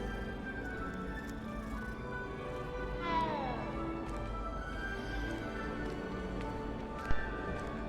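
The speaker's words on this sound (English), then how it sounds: "Kitty cat." A cat in the video game Hogwarts Legacy gives a single short meow partway through, set against steady in-game music and ambience.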